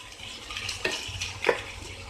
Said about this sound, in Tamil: இதையும் நல்லா வதக்கிட்டுலாம் இந்த பச்சை வாசனை போகிற அளவுக்கு